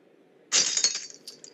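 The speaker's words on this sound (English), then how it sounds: "I can generate these sounds without having to break glass." A synthetic, AI-generated sound of glass breaking: one sudden bright smash with tinkling shards scattering and settling over about a second, heard alone against a quiet background.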